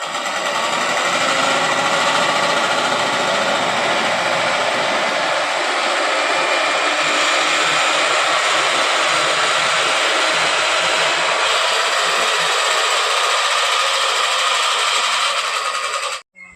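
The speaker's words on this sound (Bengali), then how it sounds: "দেখুন আমাদের কীভাবে মাল কাটিং হচ্ছে" A loud, steady mechanical whine from a fabric cutting machine in a garment factory running continuously at close range, with a slight change in tone midway and an abrupt stop at the end.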